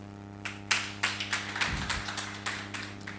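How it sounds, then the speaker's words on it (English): Sparse, scattered handclaps from a small group, uneven and fairly soft, with no voices. "A clap."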